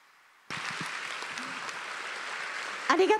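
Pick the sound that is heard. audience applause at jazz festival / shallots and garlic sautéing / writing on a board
audience applause at jazz festival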